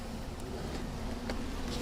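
Honey bees drone around an open hive during a honey harvest, a soft, continuous buzzing swarm hum that stays even throughout, with no voices.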